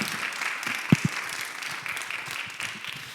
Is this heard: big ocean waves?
no